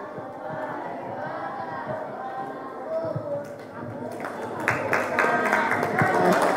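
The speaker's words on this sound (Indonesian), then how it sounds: "Beri tepuk tangan yang meriah untuk Bunda Nurhayati semuanya" Applause from an audience of schoolchildren at a fifth-grade young-entrepreneur seminar, a steady wash of clapping that grows denser and louder toward the end, with voices mixed in.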